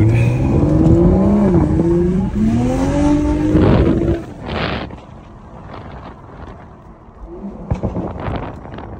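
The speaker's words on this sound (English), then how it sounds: "the power, the delivery of the power, the sounds, the Valtronic exhaust" BMW M3 G80 accelerating hard with its Valvetronic exhaust, engine note climbing loudly through the gears from inside the car, then easing off into quieter road and engine sound.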